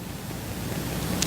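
Water placed in Minecraft flows with a steady, soft rushing wash, a brief continuous noisy hiss without distinct splashes, moderately quiet.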